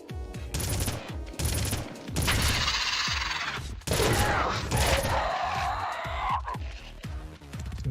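Assault rifle fire in the video game Red Faction: rapid, dense volleys of close, loud shots come in repeated bursts, with brief gaps and ringing, clattering tails between them.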